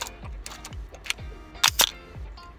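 A camera's horizontal-travel focal-plane shutter fires repeatedly, giving about six sharp mechanical clicks at a fairly even pace, close and clear with no talk.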